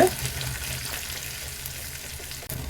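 Chopped large onions sautéing in a pan for Tamil dal gravy, giving a steady, close, dense sizzle that dips briefly near the end.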